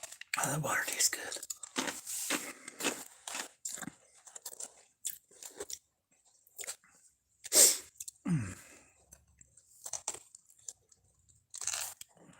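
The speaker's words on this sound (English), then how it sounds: "I didn't realize I sneezed." One sharp sneeze bursts out partway through, set among soft mouth noises, crunchy chewing and scattered quiet speech from a person.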